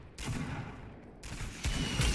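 Bursts of Fortnite gunfire in a battle royale match, quiet and distant-sounding, with rapid volleys starting after a brief pause and a second louder burst near the end, no voices over it.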